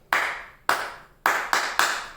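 Five sharp hand claps in a rhythmic pattern used to grab a classroom's attention: two widely spaced, then three quicker ones, each crisp and close with a short decay, no voices.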